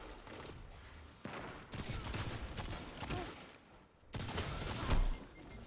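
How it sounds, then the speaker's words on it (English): Hand cannon gunfire in a first-person shooter video game, several sharp, loud shots and bursts cracking in quick succession over a busy background of game noise. "I'm in love with this hand cannon"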